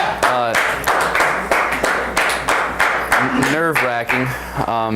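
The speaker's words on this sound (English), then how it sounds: "clap it up for him." Studio audience clapping on a talk show, sharp rhythmic claps heard close under cheerful voices and laughter, with people speaking throughout.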